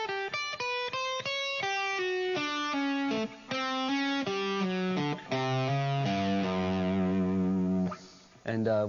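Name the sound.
electric guitar rock fusion licks with flat fives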